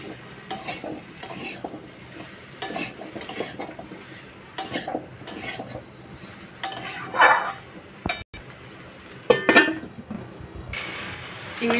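Pumpkin and potato are stirred in a cooking pot, with irregular scraping strokes and metal clinks against the pot over a low background hiss. A brief loud clatter comes near the end.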